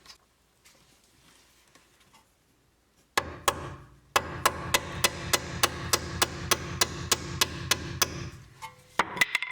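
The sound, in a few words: hammering on a stuck bolt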